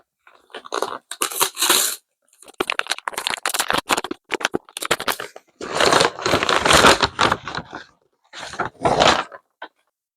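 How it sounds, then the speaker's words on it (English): Wrapping being torn and crinkled off a book bought as a present, in bursts of close, loud paper rustling and crumpling with short pauses between. "So let's unwrap it together."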